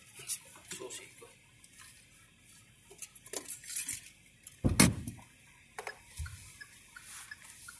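A bunch of keys jangles and clinks in scattered bursts, close by, with one sharper rattle midway and a soft background hum.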